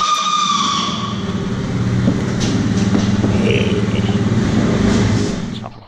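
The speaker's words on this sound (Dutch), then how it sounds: "Dat zijn normale scootergeluiden hoor." A newly bought scooter runs close by, its engine note a steady buzzing drone with a slight rev and rising whine as it rides off, loud throughout before cutting away at the end.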